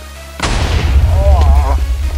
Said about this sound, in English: Let's throw in the bomb.